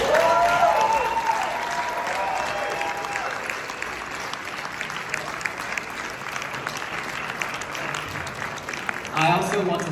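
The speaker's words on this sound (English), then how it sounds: "everyone on stage could have a big hand round of applause" An audience at a university variety show applauds and cheers loudly, a dense wash of clapping that starts strong and holds steady, with voices mixed in and a speaker heard near the end.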